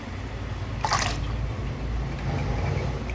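Garmar roots being rinsed in water for pickle, with one brief splash of water near the start over a low, quiet watery background.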